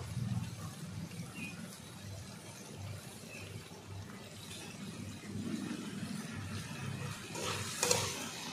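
Raw papaya and soybean curry sautéing in a pan, heard as a faint, continuous low sizzle with soft stirring, fairly quiet and even throughout, with a slightly louder scrape near the end.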